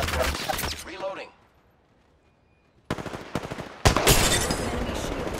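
Bursts of loud automatic gunfire in Apex Legends, with a Kraber sniper rifle and Bangalore's ultimate in play. A quiet gap separates the rattling volleys, and a voice is heard speaking.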